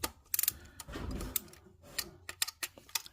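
A torque wrench set to 50 inch-pounds tightens oil cooler housing bolts in crisscross order on a 2011–2021 Chrysler 300 or Dodge Charger, giving faint, scattered ratchet clicks with quiet mechanical handling between them.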